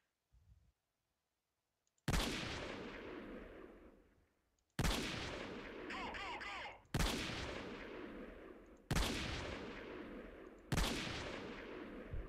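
Gunfire in the video game Freeman Guerrilla Warfare, a series of five loud, sharp gunshots at roughly two-second intervals, each trailing off in a long echoing decay, with a faint voice beforehand.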